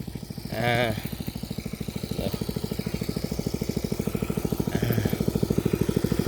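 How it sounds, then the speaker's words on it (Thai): A water pump engine runs close and steady with a rapid, even chugging pulse while pumping water out, and a voice talks over it at times. "เนี่ยเครื่องสูบน้ำเรา เนี่ย เราสูบออกมาแล้วเนี่ยดู"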